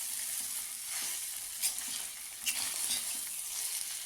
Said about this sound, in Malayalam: ബീഫ് ഇട്ടതിന് ശേഷം നല്ലപോലെ ഇളക്കി കൊടുക്കുക